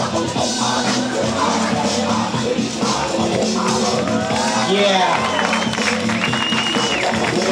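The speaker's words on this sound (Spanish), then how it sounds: "Aplausos para ella." A crowd at the women's final of a Madrid battle event in 2010 applauds and cheers a female finalist, with loud sustained clapping, whoops and shouts filling the whole stretch in a busy, reverberant hall.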